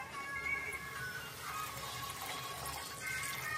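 Water poured into a cooking pot while making Rajasthani sogra in a home kitchen, a steady rushing pour lasting throughout at moderate volume with no talk.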